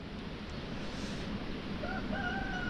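A rooster crows in the distance, a faint rising call near the end of the clip, over steady outdoor wind and ambient noise on a mountain loop by the Mendaur in the Basque Country.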